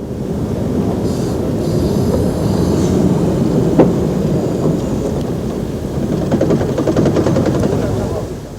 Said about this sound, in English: A replica of the locomotive is seen here at Rothley on the Great Central Railway in 1991.